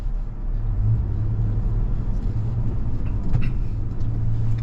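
Toyota FJ Cruiser driving off-road on dirt, a loud low engine rumble and drivetrain drone building steadily under acceleration, with occasional knocks from the rough terrain.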